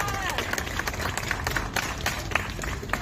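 Crowd applause at an outdoor civil rights rally in Seattle, brisk scattered clapping with sharp individual claps standing out over a murmur of voices and cheering.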